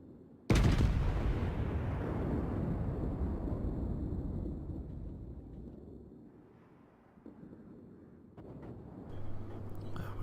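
The battleship Iowa's main guns fire in the World of Warships video game: a sudden heavy boom opens and rolls off into a long low rumble, with a second, softer thump later on.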